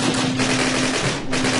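Rapid, continuous gunfire rattles loudly for under two seconds with a steady hum underneath, like automatic weapons in Call of Duty.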